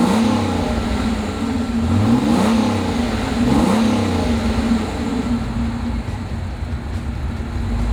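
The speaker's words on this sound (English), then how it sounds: "it makes a great, great growl as you go on down the road" A 1987 Pontiac Fiero GT engine growls steadily at mid pitch, rising and falling slightly as it accelerates down the road, with constant road rumble and no talking.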